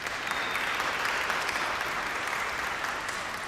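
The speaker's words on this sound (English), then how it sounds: "that's worth applause" Steady applause from a crowd at the Phantoms of the Organ event, continuous clapping at moderate volume throughout with no voices.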